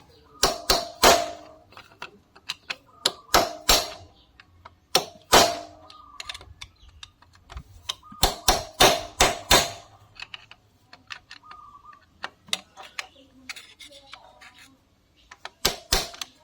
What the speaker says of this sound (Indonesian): Kita gunakan palu aja ya, kita gunakan palu.